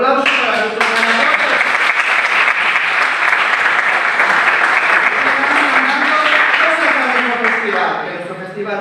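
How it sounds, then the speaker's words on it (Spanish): Sustained audience applause at the closing ceremony of an Asturian film festival in Gijón, honouring the winner; steady, loud and dense clapping throughout, with a voice or two faintly audible beneath it. "Otro aplauso para nuestro ganador."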